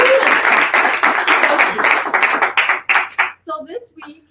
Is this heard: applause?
yes